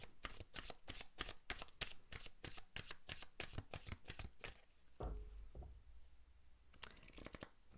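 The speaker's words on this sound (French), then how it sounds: "on va tirer un dernier message avec les cartes des commandes à l'univers" A deck of oracle cards is shuffled up close, quick rhythmic riffling bursts for several seconds, then a pause and a few soft card taps and slides.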